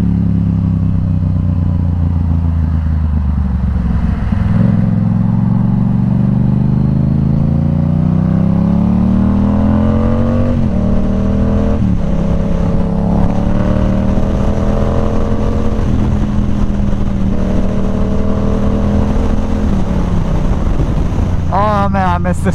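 A Yamaha R7 motorcycle's engine rises and falls through gear changes while riding, revving up in repeated climbing sweeps with brief drops between shifts, loud and close against wind rush.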